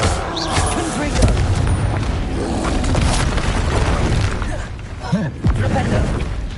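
Confringo fire spell blasts in Hogwarts Legacy, loud booming explosions in dense combat noise with continuous rumble and shouted spell calls from a voice.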